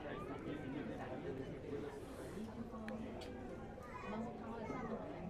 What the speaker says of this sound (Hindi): ये भीड़